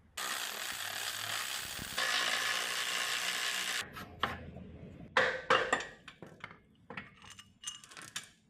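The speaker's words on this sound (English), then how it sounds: "we're going to loosen up this front sprocket down here, flip that around" A tool works on the front sprocket of an off-road race mower's chain drive, giving several seconds of steady grinding whir, then scattered metallic clanks, scrapes and clicks as parts are handled up close.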